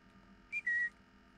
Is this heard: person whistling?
yes